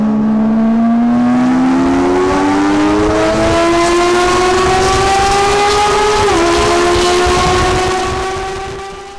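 A Porsche GT3 fitted with a JCR full race header and exhaust roars loudly up through the revs in one long, sustained pull, close by, with a brief dip near the end before the sound tails off.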